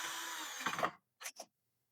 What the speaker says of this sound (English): Now you have to tighten the screws